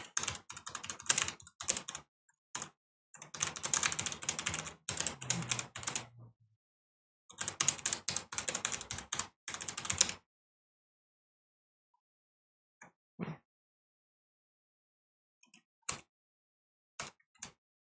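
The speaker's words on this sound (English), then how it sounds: "Y'all can hear me typing because my keyboard is super duper loud." A very loud computer keyboard rattling with fast, clattering bursts of typing, then a pause and a few isolated, sharp keystrokes near the end.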